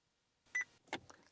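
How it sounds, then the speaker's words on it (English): Short electronic confirmation beeps from a Vauxhall Corsa D (Opel Corsa D) dashboard as a hidden menu setting saves, two quick clear tones followed by a softer blip in a quiet car interior. "There's the beep, and that confirms that the setting has been saved"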